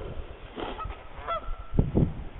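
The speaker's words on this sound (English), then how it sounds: "These geese really do not like us. They must have a nest in this tree." Geese honk in short, harsh bursts, a couple of loud calls near the end over outdoor rumble.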